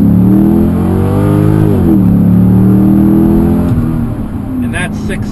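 A 2013 Chevrolet Corvette Grand Sport Convertible's engine revs and roars as it accelerates hard to 60, pitch climbing through gear shifts, loud and close throughout.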